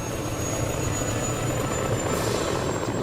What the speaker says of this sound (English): Alright, here's a helicopter.